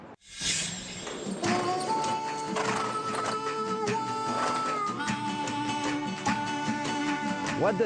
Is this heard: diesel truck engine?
no